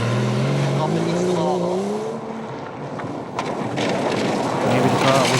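Porsche rally car on Bocholt gravel, its engine note rising and falling with roaring acceleration, then a rougher scrabbling stretch as it runs wide, heard close with a commentator's voice over it.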